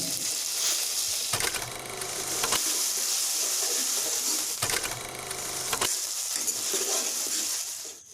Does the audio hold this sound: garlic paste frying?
yes